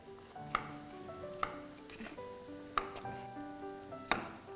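Mixed vegetables, carrot, cauliflower, peas and beans, are stir-fried in a pan, a quiet sizzle broken by several sharp scrapes and clinks of a spatula at irregular intervals, with no voices.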